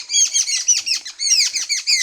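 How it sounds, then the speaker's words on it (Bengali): Common myna birds call noisily at a cat at close range, a dense run of harsh, rapid chirps and squawks in quick bursts with no voices over them. "এইখানে শালিক আছে, কেসকেসি পাখি আমরা বলি আমাদের গ্রাম্য ভাষায়। মেকুরকে দেখে চিল্লাপাল্লা করতেছে।"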